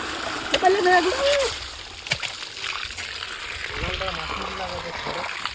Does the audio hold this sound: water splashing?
yes